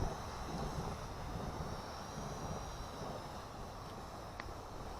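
A Hubsan H507A drone flies at full throttle, giving a steady, droning whir of small motors and propellers that holds level throughout, moderately loud with no speech over it.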